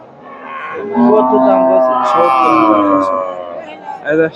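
A Sahiwal cow and calf moo at a crowded cattle market in Bogura, one long, loud, low call rising in the middle over a murmur of nearby voices and talk.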